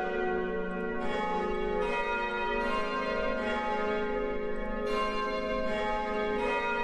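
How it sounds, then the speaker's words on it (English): An Italian church bell chime rings in the Roblox game Italian Bells, with clear repeated strikes whose bright tones overlap and ring on, steady and fairly loud with no talking. "So that's your half past chime, and now we'll do the quarter two chime"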